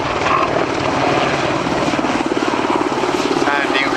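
A search and rescue helicopter flies a high turn at the end of the runway at an airshow. Its loud, rhythmic rotor thump and engine roar fill the clip while a commentator speaks over it.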